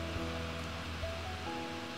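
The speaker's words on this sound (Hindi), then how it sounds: "तो कैरेट को मैं थोड़ा सा यहाँ पे सॉटे कर ले रही हूँ" Carrots and peas sauté in a pan with a steady, soft sizzle and crackle, a constant hiss with a low hum underneath and no voices.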